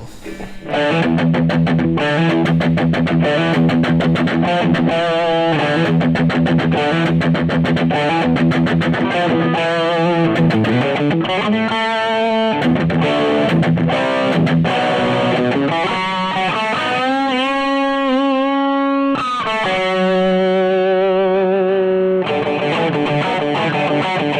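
A distorted electric guitar, a PRS McCarty 594 Singlecut or a Gibson Les Paul, plays loud sustained chords and riffs for the whole stretch, with a brief drop-off near the end before resuming.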